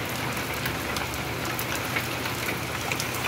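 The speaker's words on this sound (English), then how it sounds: "It's a storm. Look how much hail there is out here." Hail pounding on a roof and the ground outside during an April storm, a dense, continuous hiss of countless small impacts with occasional sharper taps standing out.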